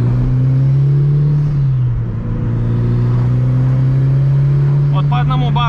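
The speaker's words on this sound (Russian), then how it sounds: "Самый кайф — это вот это звучание кратковременного наддува" A Mitsubishi Lancer Evolution VIII engine drones steadily with a rising turbo whine as boost builds, pitch dipping and climbing again; a voice speaks faintly near the end.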